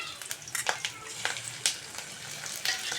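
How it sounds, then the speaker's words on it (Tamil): Fish eggs fry with softened onions in a pan, a steady sizzling hiss broken by frequent sharp scraping and stirring clicks close by, with no talking. "இந்த முட்டையை போட்டு நம்ம நல்லா வறுக்க போகிறோம்"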